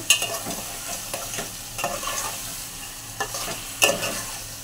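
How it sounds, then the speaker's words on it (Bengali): Rice and lentils with a pinch of salt being stirred and fried in a pan, giving a steady sizzle broken by repeated scraping strokes of the spoon, close and fairly loud, without speech. "চাল ডালটা দিয়ে দিলাম, একটু লবণ দিয়ে দিলাম"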